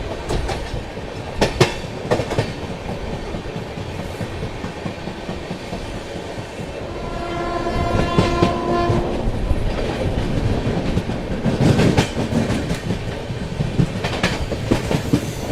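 The Goa Rajdhani Express picks up speed past Godhra on a curve, heard from on board as a loud, continuous rolling rumble with rhythmic wheel clatter; a long, steady horn blast sounds midway and the roar swells afterward.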